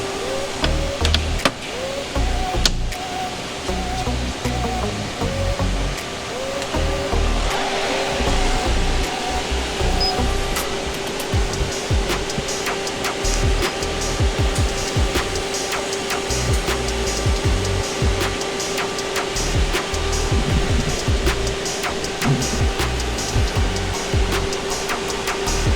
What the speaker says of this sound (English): we're gonna pretty much evacuate all the freon that's in the system into the machine